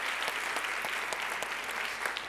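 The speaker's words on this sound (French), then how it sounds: "on peut l'applaudir" Sustained audience applause fills a hall during a science-communication final evening, dense and steady clapping from a large crowd throughout, with no voices standing out.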